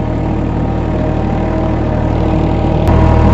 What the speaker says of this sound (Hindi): ट्रैक्टर पर बैठ कर देखते हैं किस प्रकार खेत में जुताई चल रही है